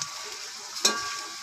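Chopped onions frying in hot oil in a pan for aloo matar pulao, a soft steady sizzle broken by one brief stirring scrape.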